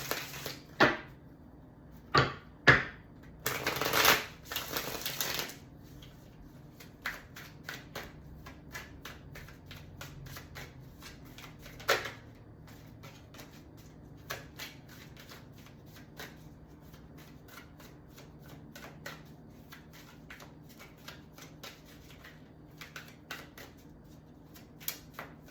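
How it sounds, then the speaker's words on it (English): Tarot cards being shuffled by hand, a cluster of loud riffles early on followed by a long run of soft, irregular flicking and tapping, close by with no talk. "Okay, a couple more shuffles here."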